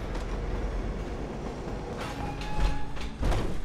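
A train car being shifted in Fallout 4, heard as a rolling, rumbling rail clatter with metallic scraping and squealing tones, swelling louder near the end with no talking over it.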